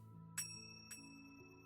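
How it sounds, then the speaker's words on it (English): A bell rings twice from above as a sound effect, each strike bright and ringing with a long sustained tone over low music. "you hear the bell from above ring"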